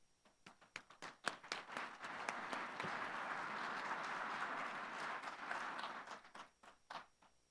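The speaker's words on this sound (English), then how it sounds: "let's give her a round of applause" A conference audience applauds as a speaker comes to the stage, starting with scattered claps that swell into full, fairly distant applause, then thin back out to a few claps.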